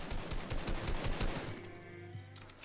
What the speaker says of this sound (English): I take a few shots and I miss a few more